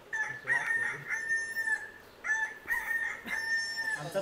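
A rooster crows repeatedly at a farmhouse near Mumbai, with several drawn-out, strained calls in sequence, clear and fairly close, with faint background noise and no talk.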